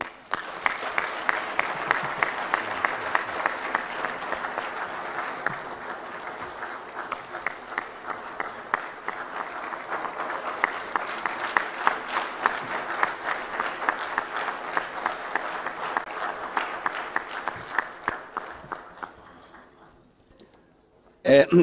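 Long, steady applause from an audience welcoming a speaker at the Kenneth Kaunda memorial lecture. It holds for about twenty seconds, then fades into a brief silence before a voice begins.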